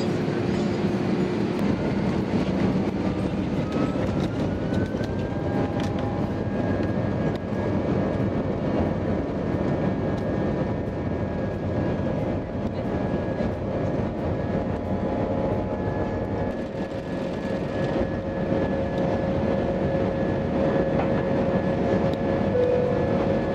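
Aegean Airlines airliner taxiing before takeoff, heard from inside the cabin as a steady, loud engine drone with a rising whine, continuous and unbroken throughout.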